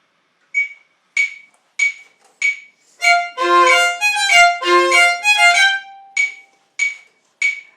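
Metronome clicks at 96 beats per minute, sharp and evenly spaced, with a dense burst of tuned melodic notes in the middle of the sequence before the steady clicking resumes alone.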